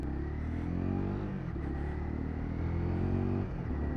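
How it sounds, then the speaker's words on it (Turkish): A Honda CBR 250R motorcycle in Repsol livery idles, then revs and pulls away, the engine pitch rising through first gear in a close, steady, moderately loud rumble with no talk. "marşa bastım, debriyajı çektim, bire taktım, sola sinyalimi verdim, sol ayından kontrolümü yaptım ve çıkıyorum"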